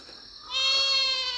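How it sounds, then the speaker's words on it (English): A young goat kid bleats loudly during weaning, one long, strained, high cry that starts softly and then swells, heard close up and alone with no talking. "I apologize for the goats. We're weaning babies right now, and they're not too happy."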